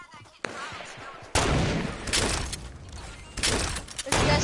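Loud bursts of assault-rifle fire from a Fortnite duos match, several sharp volleys in quick succession, with a player's voice talking over the shooting.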